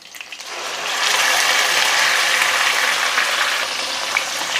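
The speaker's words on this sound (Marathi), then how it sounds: "आता ह्यातच आपल्याला कांद्याची पेस्ट घालायची आहे" Onion paste drops into hot oil with whole spices, green chilli and bay leaf, and it starts a loud, steady sizzle that holds close and even after a quieter first moment.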